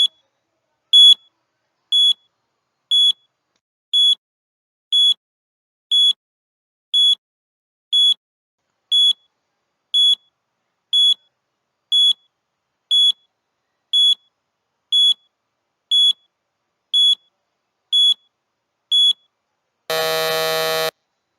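A timer beeps with short, evenly spaced electronic bleeps about once a second for roughly twenty seconds, then ends with a brief, loud buzzing burst.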